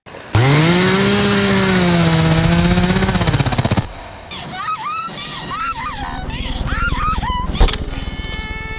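A chainsaw roars loudly at high revs for a few seconds, then cuts off as screams and shouting take over.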